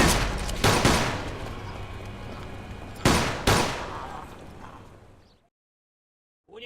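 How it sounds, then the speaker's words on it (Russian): Two loud bursts of rapid gunfire in the video game Mafia II, with a lingering rumble between them, then sudden silence before a faint sound returns at the end. "У него пушка! Прикрой меня, Вито!"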